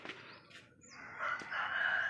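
Chickens cluck outdoors in a few short, fairly faint calls, one rising into a sustained crow-like note, with no one speaking.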